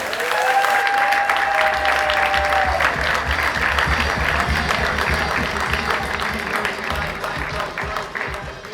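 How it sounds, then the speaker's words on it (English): A conference crowd welcomes panelists to the stage with loud sustained applause, dense even clapping that gradually thins over nearly nine seconds, a brief tone sounding over the start. "I like when they clap before we even said anything."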